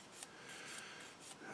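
Sandpaper rubbed back and forth on a small plastic part from a Tamiya SU76M model kit, giving a soft, close rasping scrape in several quick strokes with brief pauses, no voices.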